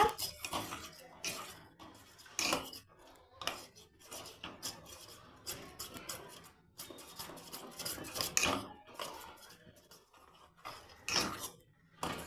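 Scraping and clinking of a utensil stirring fresh cream for vanilla ice cream in a metal pan, irregular strokes with brief louder scrapes, close by and without any talking.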